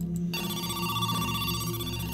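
A telephone rings in the video game Who's Lila, with a steady electronic tone and a short sharper burst at the start, moderately loud and alone without talk.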